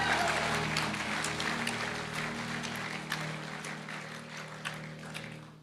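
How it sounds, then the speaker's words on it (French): A church congregation applauds in a sustained patter of clapping that slowly fades, with a low murmur of voices underneath. "Quelqu'un acclame le Seigneur."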